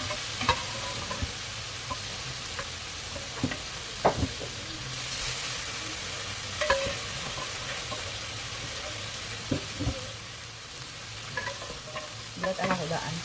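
Beef for caldereta sautés in a pan under a constant loud sizzle, with scattered clicks and scrapes from stirring breaking through the hiss.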